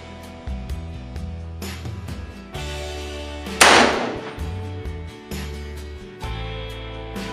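A Remington 1858 cap-and-ball revolver, loaded with .454 round balls and left in humidity for over a year, fires a single loud, sharp shot that fades quickly, with music playing throughout.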